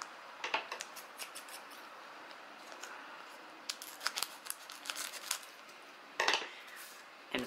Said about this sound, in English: So let's open up the first pack with Dialga on it and see who we got.